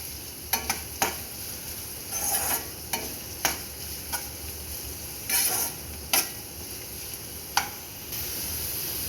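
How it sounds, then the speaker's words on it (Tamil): Onions fry in a pan for a green brinjal stir-fry, a constant soft sizzle broken by sharp scrapes and taps of a spoon stirring at irregular intervals. "இப்போ வெங்காயம் சேர்த்துட்டு இதை ஒரு 2 நிமிஷம் நல்லா ஃப்ரை பண்ணிக்கலாம்."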